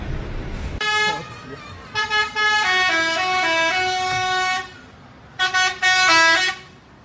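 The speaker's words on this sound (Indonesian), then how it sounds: "Detik bus Tiara Mas kena marah di Shub gara-gara ngidupin Basuri di terminal Poris." Basuri musical horn on a Tiara Mas bus at Poris terminal blaring loud tuned melodic phrases in three bursts, a short opening note then a long tune and a final burst, with people talking between them.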